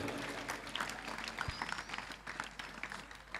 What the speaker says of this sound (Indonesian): boleh tepuk tangan lagi buat Gontor ya.